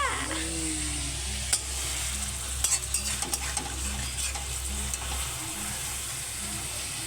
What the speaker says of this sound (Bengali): মটন রান্না করছি মটন মটন কষা মটন কষা